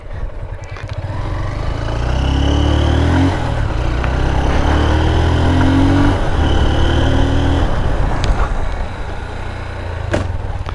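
A Honda CB Hornet 160R motorcycle doing a stoppie wheelie, its engine revving hard and steadily up close for several seconds, rising and dipping with throttle and easing off near the end.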